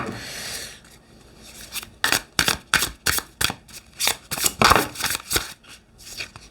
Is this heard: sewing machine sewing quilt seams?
no